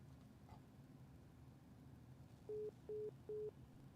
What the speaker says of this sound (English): I guess the phone hung up.